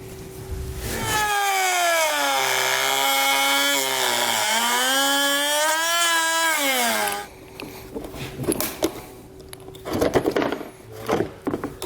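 Power tool cutting out a plastic bumper panel on a 2019 Jeep, a loud steady high-pitched whine for about six seconds whose pitch dips and rises as the blade works, followed by clattering handling noises.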